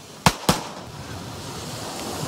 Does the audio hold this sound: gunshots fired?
yes